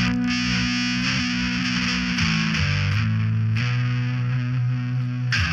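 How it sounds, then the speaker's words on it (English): Distorted, effects-processed synth tone triggered from a touchless Arduino-built MIDI controller, a loud sustained buzzing chord that shifts pitch in steps, heard alone with no talk. "Distortion."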